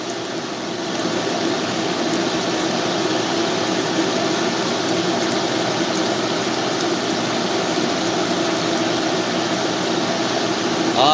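A paint spray booth's extraction fan roars continuously and loudly at close range, a steady broadband whooshing hum that holds constant throughout with no pauses.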